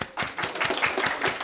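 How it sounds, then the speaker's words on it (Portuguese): A burst of clapping and applause from a small group, quick and continuous, fairly close, with no talking. "Gabriel Lima, aplausos."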